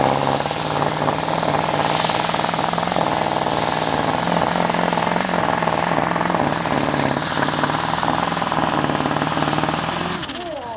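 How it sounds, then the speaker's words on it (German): A turbocharged Deutz V8 diesel engine in a pulling tractor at a tractor pulling event in Haßmoor, 2023, roars loud and close with a hard, rattling drone held steady for about ten seconds before dropping off. "Und der Dini macht sich startbereit. Der deutsche Motor mit Turboaufladung."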